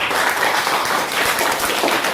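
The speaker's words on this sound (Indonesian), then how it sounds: "tepuk tangan untuk kawanmu kelompok 1" Students in a classroom applaud their classmates from group 1 after a presentation, sustained close clapping from a small group with no voices over it.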